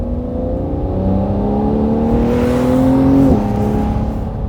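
A 992-generation Porsche 911 Carrera S circles the empty Madras Motor Racetrack, its engine loud and close, rising in pitch as it accelerates then dropping abruptly on a gearshift, with steady sustained drone throughout and no talk.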